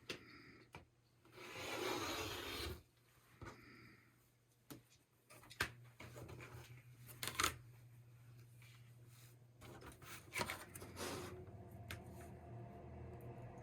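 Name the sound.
cutting excess fabric off a t-shirt quilt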